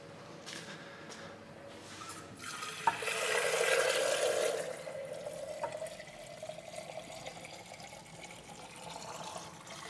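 Running water pours steadily from a tap for a few seconds while refilling a portafilter espresso machine during descaling, swelling loudest in the middle, with clattering and handling noises around it.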